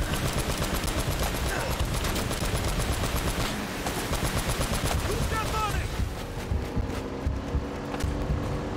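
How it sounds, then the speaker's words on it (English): Gunfire in Uncharted: Drake's Fortune during a chase scene, rapid continuous automatic bursts that are loud and close and thin out near the end, with a voice talking over it. "Firing non-stop."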